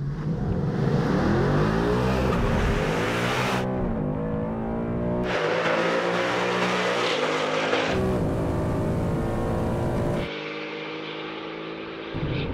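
A 2019 Ford Mustang revs repeatedly on a drag strip in loud, sustained surges of rising engine pitch, broken by abrupt cuts between passes.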